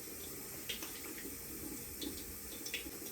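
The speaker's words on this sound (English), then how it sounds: "Just run my hands through the sink to get a little bit of water." A bathroom sink tap runs with a steady, quiet stream of water, broken by a few soft splashes as hands pass through the flow, and no one speaks.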